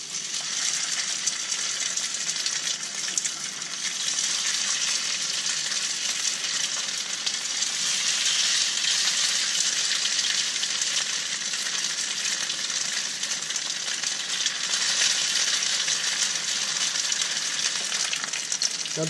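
Oatmeal slices frying in hot olive oil in a pan, a constant bright sizzle that stays dense and even throughout, close and fairly loud with no voices.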